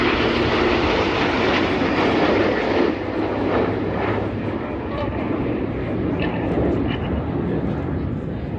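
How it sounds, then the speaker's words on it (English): A seven-jet display team sweeps past in formation at the Oshkosh airshow, producing a loud, continuous broadband roar that swells and slowly fades, with a commentator speaking over it. "As the jets sweep in from the right-hand side and the smoke comes on shortly"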